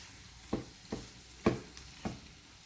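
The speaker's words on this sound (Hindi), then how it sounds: "अब इसको इसी तरह से मिला लेंगे, अच्छी तरह से इसी में भून लेंगे।" Prawn karahi masala with yogurt frying over a very low flame, a soft steady sizzle broken by four distinct scraping stirs of a spoon in the pan at roughly even intervals, quiet and close.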